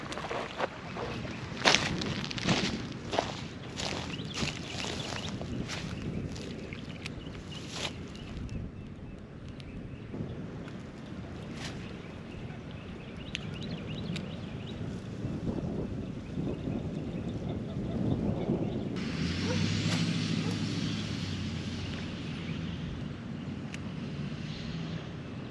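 Gusty wind blowing outdoors at a campsite as bad weather moves in, a broad rumbling roar buffeting the microphone, with scattered knocks early on and a louder surge toward the end.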